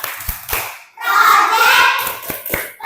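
Schoolchildren in an Indonesian primary classroom perform a rhythmic clapping chant, sharp hand claps at the start and end framing a stretch of young voices chanting together, close and lively.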